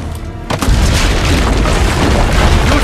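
Heavy booming cannon fire from the ramparts in Assassin's Creed Brotherhood, a loud sustained rumble of blasts that swells after a quieter opening and continues without speech.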